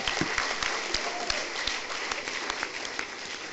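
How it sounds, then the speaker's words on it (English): A conference audience applauds after a presentation, a dense run of many hands clapping at a steady moderate level throughout, with no voices standing out. "Please give me another round of applause."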